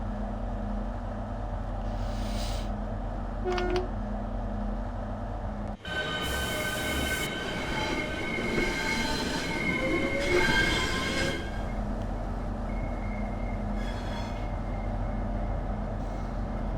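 A class 465 electric train at St Pancras station hums steadily, then a louder stretch of wheel screech, clattering and rolling noise passes close by before settling back to the idling drone.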